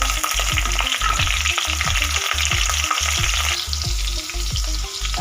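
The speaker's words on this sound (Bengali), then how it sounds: "এখানে আমি দিয়ে দেবো কাঁচা লঙ্কা" Green chillies fry in hot oil for a fish curry, giving a loud, steady sizzle with rhythmic stirring scrapes that repeat about twice a second, and no talking.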